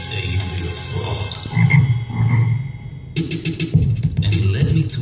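Frog croaking loudly and continuously, layered croaks with a denser chorus of calls swelling after the midpoint.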